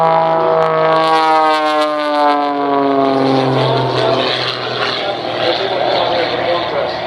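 Propeller airplane engine at the EAA AirVenture Oshkosh airshow, a loud droning whine whose pitch slides downward as the aircraft passes, with a commentator talking over it.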